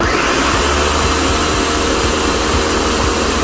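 A blender grinds roasted unsalted peanuts for a light peanut sauce, a loud, continuous, close motor roar with faint rhythmic thumps and no voices.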